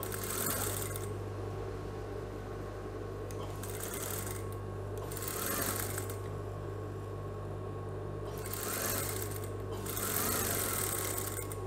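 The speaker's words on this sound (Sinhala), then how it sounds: "මේ පිටිපස්සේ මැද මොස්තරේ මහා ගන්න" A sewing machine stitches the back centre design of a high-neck saree blouse, running steadily with a constant motor hum and bursts of needle clatter that come and go in several long runs, with no talk over it.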